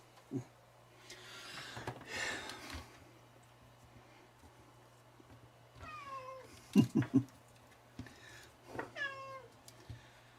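A cat meows several times at moderate distance, with short high calls and a few louder, wavering cries spread unevenly over a low steady hum, with no speech.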